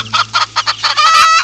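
A cartoon hen named Rosie clucks a rhythmic series of short bursts at a door, ending in a sustained crowing call, loud and close with no talking.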